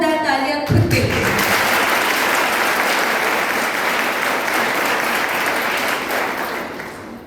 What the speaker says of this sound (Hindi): एक बार जोरदार तालियां खुद के लिए